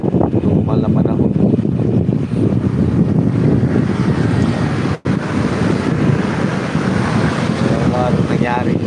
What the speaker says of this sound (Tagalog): tapos malakas na naman yung hangin